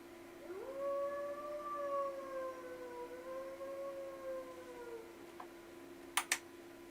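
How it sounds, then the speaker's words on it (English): A dog howls somewhere outside a window in the video game Tsukihime, one long wavering howl lasting several seconds over a steady hum, followed by two sharp clicks near the end. "The dog is still howling somewhere outside the window."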